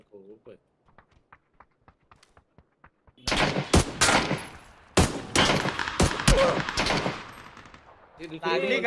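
A few quiet footsteps tap before loud, close bursts of rapid gunfire erupt, firing in several volleys while people talk over the shooting.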